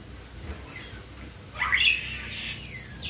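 A young hill myna gives a sharp squawk, one loud harsh burst in the middle with fainter chirpy calls around it, heard close up.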